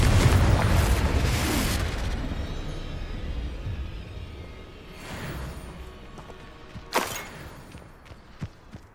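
In the Hogwarts Legacy video game, a Confringo spell explosion lands as a deep, rumbling boom that fades gradually, followed by softer thuds and a sharp pop.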